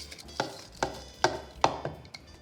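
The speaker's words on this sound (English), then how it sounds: "I'm gonna use sugar, eggs, and I'm gonna whisk it." A whisk beats sugar and eggs in a bowl for Paris-Brest pastry cream, giving about six sharp, evenly spaced clinking strokes close by with no talking.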